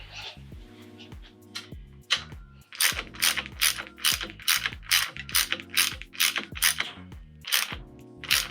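Ratchet clicking as a mechanic tightens the damper-side base nuts with new crush washers on a motorcycle's Fox fork fitted with a PUSH Industries ACS3 upgrade kit, with repeated bursts of rapid ratchet clicks close up and no talk.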